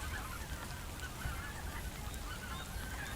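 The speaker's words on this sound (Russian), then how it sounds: "Слышите диких гусей?" Wild geese honk faintly from a distance over a river outdoors, soft scattered calls buried in steady wind and ambient noise.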